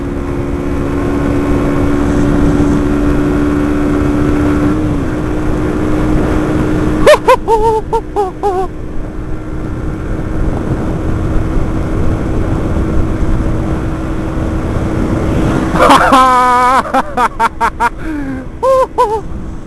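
A Yamaha YBR 125 motorcycle runs flat out at top speed with a steady, loud engine drone, its note rising through gears. Wind roar fills the background, and a few short bursts of chattering sound cut in near the middle and end.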